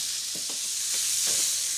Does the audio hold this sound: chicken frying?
yes